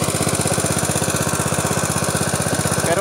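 The small engine of a farm fertigation system runs close and loud in a steady, rapid chugging rhythm, unbroken throughout with no voices.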